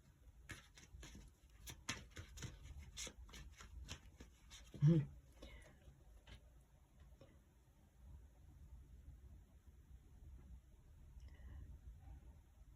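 Tarot cards being shuffled to draw one more card, a soft run of papery riffles and light clicks with one louder thump partway through, close and quiet.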